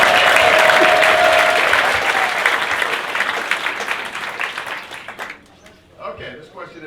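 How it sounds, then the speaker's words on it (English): A room full of people at a Republican coalition debate between U.S. Senate candidates applauds the timekeeper with dense, steady clapping that tapers off after about five seconds into scattered claps. "We get a quick round of applause for our timekeeper."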